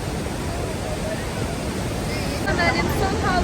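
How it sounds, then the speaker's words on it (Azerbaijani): The roaring Iguazu waterfall at its heaviest-flowing section thunders as steady, dense rushing water close by, a loud unbroken wash with no pauses. "bu da şəlalənin ən gür axan hissəsi"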